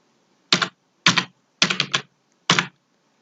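Typing on a computer keyboard, four short separate bursts of clicky keystrokes, close and crisp, with silence between them.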